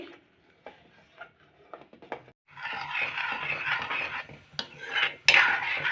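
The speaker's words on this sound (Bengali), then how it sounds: "আমি এখানে দুধটাকে মারছি মেরে নেবো দুধটাকে আমি" Milk stirred and reduced in a pan while making kheer, heard first as scattered light scraping and clinks of a utensil against the pan, then a steadier, busier stirring and scraping stretch ending in a few sharper metallic knocks.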